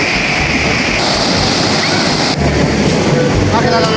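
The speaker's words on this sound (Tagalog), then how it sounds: "nagsasalubong po yung mga alon." Loud, constant rushing of surf and churning water with strong wind buffeting the microphone, waves meeting and washing together close by without a break at Balas Island.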